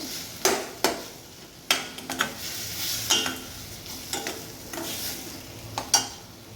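Masala for paarai fish curry is sautéed in a pan with a steady low sizzle. A spoon stirs and scrapes against the metal in irregular clinks throughout, close by and with no voices.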